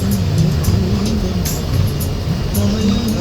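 A bus engine drones steadily while cruising at about 80 km/h on a highway near a toll plaza, with a low constant rumble and road noise, and a person speaking faintly over it.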